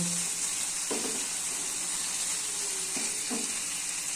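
Steady hiss and sizzle of katla fish frying in a pan as a little water is added, with a few soft stirring scrapes, close and continuous.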